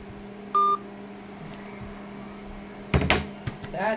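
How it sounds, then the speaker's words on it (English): A single bright phone keypad tone sounds early, followed by a quiet stretch, then a burst of handling clatter and faint rising beeps as a call is placed from another number. "I'm going to try calling from a different number"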